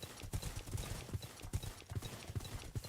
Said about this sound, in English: Oh, there's a horse down there.